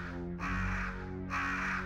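Crows caw in the Resident Evil game for PS1, two long harsh calls in a row, loud and close, with no voices over them.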